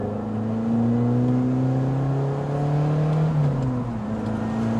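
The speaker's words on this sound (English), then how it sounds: "take my Lotus 240 final edition onto the test track here at Hethel" A Lotus Elise 240 Final Edition laps the Hethel test track, its engine droning loud and close, with steady harmonic tones that rise, hold and dip as the car accelerates and lifts off. No one speaks.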